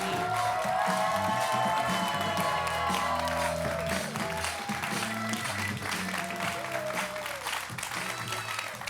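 Sustained applause and cheering from a studio audience greeting André Manoukian on a talk show, a thick roar of clapping with whoops that eases slightly toward the end while a voice cuts in.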